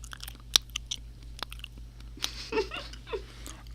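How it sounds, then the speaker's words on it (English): Chewing on something crunchy, given as crunchy cheese, comes through close and fairly quiet as a scattered series of sharp crunches and bites over a low steady hum, with no talking. "It's crunchy cheese."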